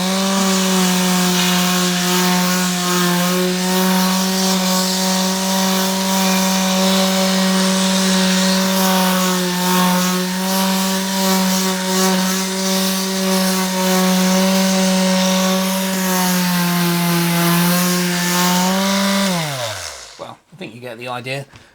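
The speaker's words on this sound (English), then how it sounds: "Now we're going to move on to the detail sander. I've got a fairly coarse grade of sandpaper on there," A detail sander fitted with coarse sandpaper runs steadily on a Milbro Model 16 break-barrel spring-piston air gun, stripping varnish with a loud, even motor whine and rasping grit for about twenty seconds before spinning down and stopping.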